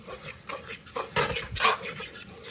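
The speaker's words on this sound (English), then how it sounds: "stir it continuously. Don't use a whisk, use a fork" Fork stirring gravy in a pan with pan drippings: soft, continuous scraping and rubbing with light metallic clinks against the pan, close and steady, with a few louder scrapes and no talking.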